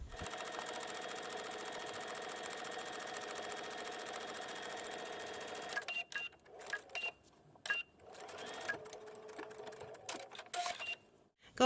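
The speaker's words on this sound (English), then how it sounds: "You can also follow me as I go ahead and sew these up and turn them right side out." Sewing machine stitching dress straps, a steady close whir running alone for several seconds, then breaking into short bursts and stop-start runs with brief pauses between.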